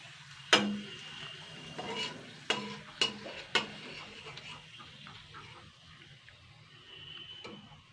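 Potato papad frying in hot oil, a soft bubbling sizzle punctuated by several sharp clacks of a utensil against the pan in quick succession, then quieter frying.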